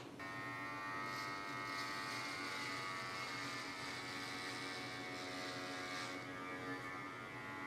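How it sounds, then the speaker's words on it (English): Steady buzz of an Odinson stone electric shaver, a constant droning hum with a faint rasp, fairly quiet and unbroken for several seconds. "Today I'm also going to be trying out this Odinson stone shaver."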